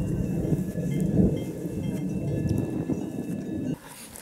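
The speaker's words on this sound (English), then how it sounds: "it started drizzling" Rain at a camp during a multi-day alpine hike: a steady, close patter of drops and a low rumbling wash that carry on loudly, then drop off abruptly near the end.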